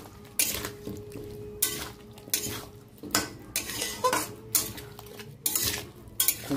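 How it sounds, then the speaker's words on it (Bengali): Pumpkin being stirred in a cooking pan, with a spoon scraping and clinking against the metal in repeated strokes over a soft background sizzle, close and moderately quiet. "কুমড়ো দিয়ে একটু নেড়ে দিচ্ছি"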